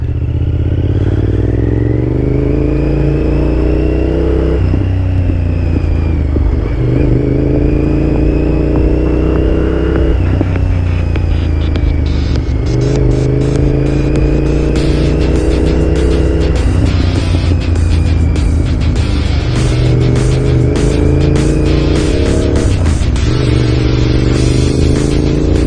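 A 2008 Honda VTR 1000 motorcycle engine on a test ride, loud and continuous, with a steady low drone that repeatedly rises and falls as the throttle opens and eases, close to the listener throughout with no talk.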